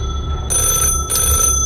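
A single black wall-mounted telephone rings loudly in two close bursts with a short gap between them, the bell tone bright and sustained.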